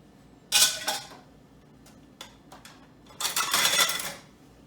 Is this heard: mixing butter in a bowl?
yes